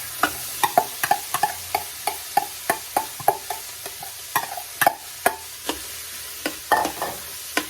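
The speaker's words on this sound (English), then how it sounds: "we want this to fully saute" Onions being stirred and sautéed in an Instant Pot for chicken tikka masala, a steady series of sharp scraping and stirring strokes roughly every half second over a faint, low sizzle, close and alone without talk.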